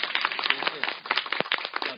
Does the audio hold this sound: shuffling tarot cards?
no